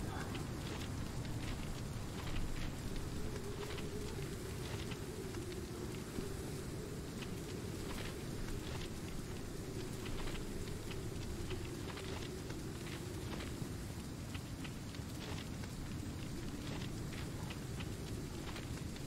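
Steady broadband rain noise in a train simulator game during a heavy downpour, a continuous even wash of rainfall with low rumble throughout, no speech.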